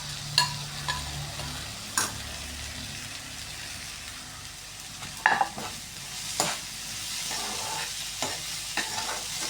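Grated coconut is stirred and fried in a pan, giving a soft, continuous sizzle broken by repeated scraping and clacking strokes of the spoon against the pan.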